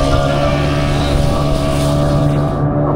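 A motorboat engine hums steadily and loudly at Malpe beach, with constant low tonal drone and wind-like noise across the whole stretch.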